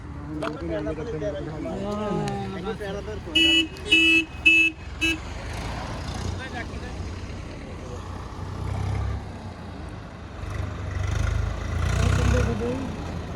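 A John Deere tractor hauling a 16-foot sugarcane trolley rumbles in low bursts as its engine strains under load, after a series of sharp horn toots, with people talking nearby.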